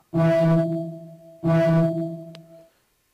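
Two sustained tonal blasts, each followed by a long, spacious wash of convolution reverb from Fruity Convolver that lingers and slowly decays, with a brief sharp click near the end.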